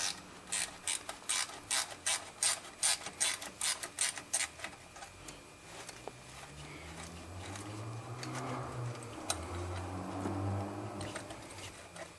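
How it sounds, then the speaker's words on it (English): A ratchet wrench clicks in quick, loud, regular bursts while backing off the drive belt tensioner on a Toyota engine, then gives way to lower mechanical rumbling as the tension releases. "get down there with a wrench that actually has the adjustment, the ratchet in the end of it. And then just back it off"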